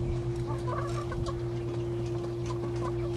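Rescued factory chickens clucking close by, several soft overlapping clucks and murmurs scattered throughout over a steady low hum.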